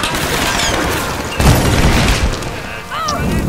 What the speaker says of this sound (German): Von da kommen auch noch Schüsse?